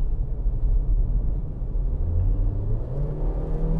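A compact sedan with an automatic gearbox accelerates and shifts through its gears, heard from inside as a steady, loud low engine rumble whose pitch climbs and then steps as the transmission changes gear.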